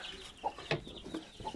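A hen clucks in short, separate bursts close by, a few soft calls spaced over a brief stretch with no talking.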